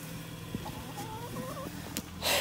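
Chickens clucking quietly in a backyard, a few soft calls over low background noise, with a brief louder rustle at the end.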